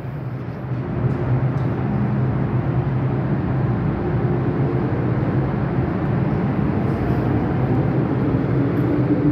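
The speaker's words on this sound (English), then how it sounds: "There goes this train." A Generation 2 CM metro train pulls away from a platform. Its broad, steady rumble fills the space at a constant level for several seconds, with no voices over it.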